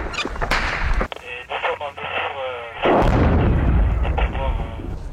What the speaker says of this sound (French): C'est des arrivées de RPG 7 ça.